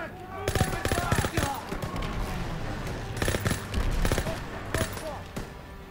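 Rapid automatic gunfire from Call of Duty: World War 2 rattles in loud bursts with short gaps between them, heard up close, while a player's voice sounds faintly underneath.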